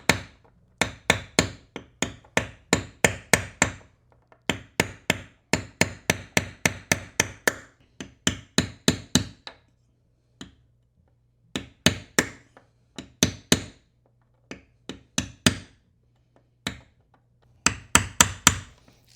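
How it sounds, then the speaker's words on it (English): A hammer drives a punch against a bent nail inside a Sega Atari Asteroids Turbo Deluxe arcade cabinet, giving close, sharp metallic strikes in quick bursts of several blows with short pauses between groups, no talking. "Let's see if I can't grab a hammer and a punch."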